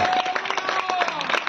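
Short burst of clapping from a congregation at a Christian peace festival gathering, dense and steady for about a second and a half, with faint voices mixed in.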